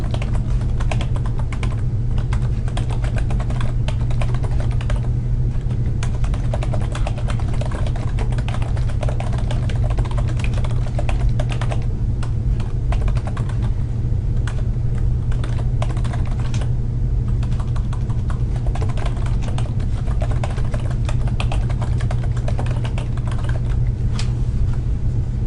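Continuous typing on a computer keyboard for a textbook exercise, a dense steady patter of key clicks throughout, loud and close over a constant low hum.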